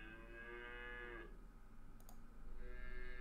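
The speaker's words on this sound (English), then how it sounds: "you'll see these are different moos" Cow moo sound effects fired from a FoundryVTT tabletop soundboard: two long, tonal bovine moos, one fading out before a short click and the next starting, played clean over a low steady hum.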